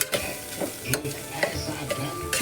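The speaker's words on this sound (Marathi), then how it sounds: "आतां मिक्स करुया." Masala being stirred in a hot pan for shortcut biryani, a soft sizzle under repeated scraping strokes of a spoon at an uneven rhythm, close and clear with no talking.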